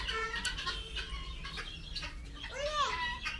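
Guineafowl raised on a farm give a few faint, scattered clucks and squawky calls against a low background hum, the clearest one a rising and falling cry near the end.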